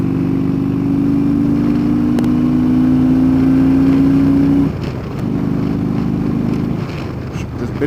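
A car accelerates up a highway on-ramp, its engine note climbing steadily and loudly, then dropping briefly as it shifts before pulling on at a lower pitch.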